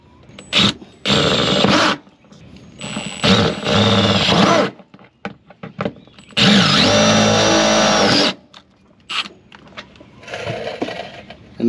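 A power drill drives a self-tapping screw with a washer into a Chevy Silverado fender liner, in several loud whirring bursts of a few seconds each with short pauses between, close up.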